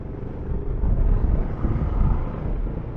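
Kawasaki ER5 motorcycle with a newly fitted clutch out on a ride, its engine droning steadily up close with a rumbling, slightly rising and falling hum.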